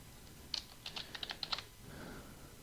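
Someone types on a computer keyboard while writing Java code. A quick burst of about ten close, crisp key clicks comes first, then a short pause and a soft rustle.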